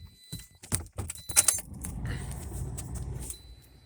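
A Toyota car is started with a smart remote key: keys jangle and click briefly, then a low engine rumble starts and settles into a steady idle close by.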